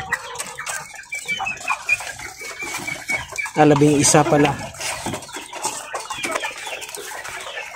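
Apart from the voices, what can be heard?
pet chickens clucking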